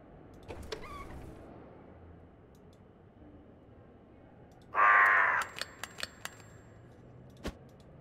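A crow in the Rusty Lake video game Underground Blossom gives one loud, harsh caw, followed by several sharp clicks and ticks over a quiet background.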